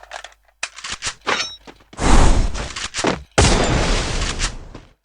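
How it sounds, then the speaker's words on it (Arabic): Explosions and gunfire in the game Free Fire include a grenade blast, heard as loud close bursts of booms and rattling shots, with two big heavy blasts in the second half. "خليني اشغل القنبلة يا شباب"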